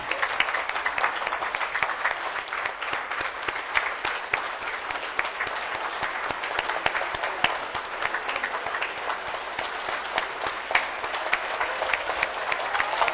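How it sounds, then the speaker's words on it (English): Conference audience gives a long, steady round of applause, many hands clapping in a dense continuous patter that holds at an even level throughout. "A huge, huge round of applause."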